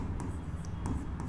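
Chalk or marker strokes on a board during a Class 10 maths lesson on circle theorems, a few short scratchy bursts close by, with faint whispery voice in the background.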